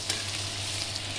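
Cashews, chopped ginger and chili hiss in hot oil, giving a steady, close frying sizzle that stays even throughout the short moment, with a low hum underneath.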